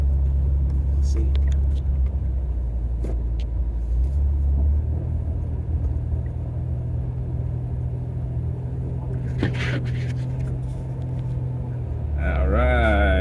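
A car drives along a snowy street, its steady low engine and road rumble continuous throughout, with a few brief higher noises near the end; a person talks intermittently over the drive.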